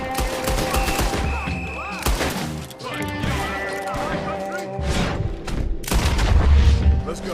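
Repeated loud bursts of gang gunfire in Red Dead Redemption 2, close volleys and crashing impacts mixed with game voices and music, recurring in several waves across the stretch.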